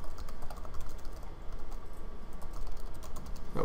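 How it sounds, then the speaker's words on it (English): Fast, continuous tapping on a computer keyboard from a person composing an email in a library computer class. The clicks are close and even, with no talking. "I'm looking at the screen while typing. I got to look at my keyboard."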